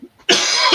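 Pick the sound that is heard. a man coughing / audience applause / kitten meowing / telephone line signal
a man coughing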